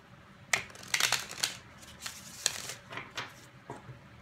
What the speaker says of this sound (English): One last shuffle for the sign of Virgos.